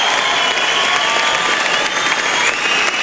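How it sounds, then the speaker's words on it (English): Loud, continuous applause from a theatre audience at the Star City Showroom, a casino venue in Sydney, filling the room evenly without a break. "Give yourselves a round of applause"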